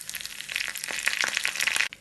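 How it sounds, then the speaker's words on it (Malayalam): Mustard seeds crackling in hot coconut oil with dried red chillies and curry leaves, a dense close sizzle with scattered sharp pops over about two seconds, no talk. "1-2 വറ്റൽ മുളകും കുറച്ച് കറിവേപ്പിലയും ഇട്ട് കടുക് പൊട്ടിക്കാം."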